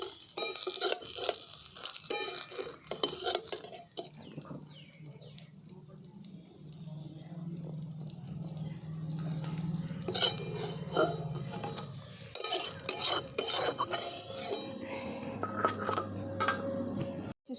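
Fried river fish come out of hot oil one by one, with clinks and scrapes of a metal utensil against the pan over a softer intermittent sizzle that fades in the middle and returns.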